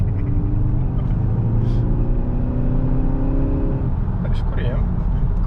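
A Skoda Octavia RS engine rumbling with a low, steady drone and a rising rev, heard from inside the car at a constant loud level under a continuous background roar.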